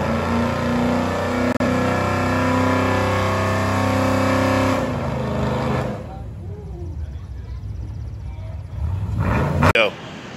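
A Chevrolet Camaro engine revs hard and steadily up close while its clutch burns, the roar holding for several seconds, then dropping away to quieter rumble and background noise before a brief sharp burst near the end.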